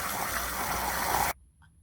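Water gushes steadily from a hose into a motorhome tank, a loud continuous hissing rush that cuts off abruptly, leaving near silence.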